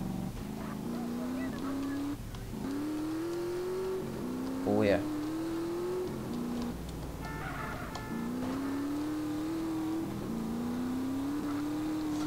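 A motorcycle engine revs and drones with rising pitch sweeps in GTA San Andreas, steady and fairly loud throughout, with someone briefly speaking over it.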